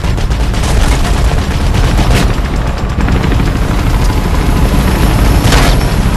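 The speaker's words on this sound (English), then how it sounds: "The Blues have a chopper incoming." Helicopter closing in over heavy gunfire in Mirror's Edge, loud and constant, with rotor thrum blended into rapid machine-gun bursts and booms throughout.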